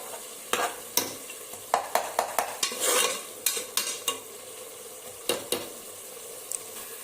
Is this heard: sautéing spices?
yes